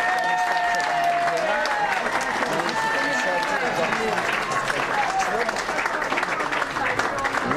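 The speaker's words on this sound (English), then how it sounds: "Mrs. Thatcher being applauded by Tory party workers" Tory party workers applaud Margaret Thatcher on election night in 1979, a dense, continuous round of clapping from a crowd close by, with a voice talking over it.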